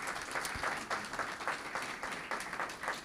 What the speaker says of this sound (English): A round of applause for this exchange so far.